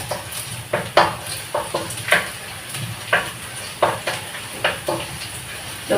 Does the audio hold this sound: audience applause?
no